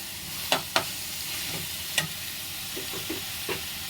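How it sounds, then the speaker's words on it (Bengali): Chopped tomatoes are stirred and fried in a pan with a soft, steady sizzle, punctuated by a few sharp scrapes and taps of a spoon against the pan, close by, with no talking. "টমেটো কুচি, একটু সামান্য নেড়ে"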